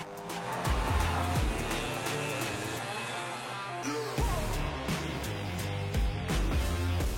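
A car lapping fast on the Top Gear test track roars close and loud, its engine rising and falling through gear changes, with tyres squealing in the corners and a brief pass mid-lap.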